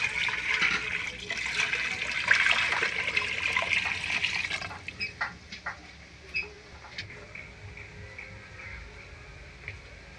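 Water pours into a pot for Filipino beef nilaga, a strong rushing stream for about five seconds that then thins to scattered drips and small clinks.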